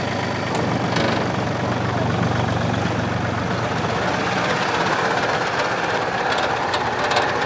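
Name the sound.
Iseki TU1 diesel mini tractor engine running in third gear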